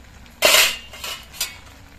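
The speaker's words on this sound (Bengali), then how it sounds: "আবার আমি 3-4 মিনিট পর ঢাকনাটা খুলে নিচ্ছি।" A metal lid comes off a pot of cauliflower stalks being boiled with a sharp clank, followed by a short rattle and a faint clink.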